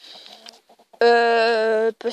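A few soft clucks, then a loud, sustained, strained call from a nearby chicken lasting about a second, among a small flock of roosters and hens.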